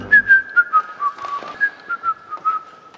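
Someone whistles a bright, short tune inside the Louvre museum, close and clear, with quick separate notes and a few sliding pitches, heard alone without talk.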